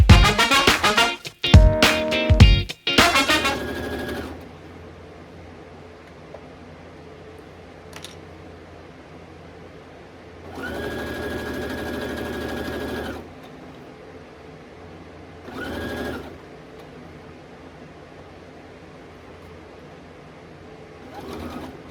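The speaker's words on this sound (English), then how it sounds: "we will sew this side together" Sewing machine stitching fabric for a turban, whirring in a few short bursts between quiet gaps, with louder clattering handling noise at the start.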